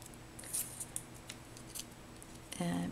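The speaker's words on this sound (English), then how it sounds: "so let's go ahead and cut a little piece." Scissors snip a small piece of paper for a handmade note card, a few light close cuts followed by a louder, crisp closing snip at the end.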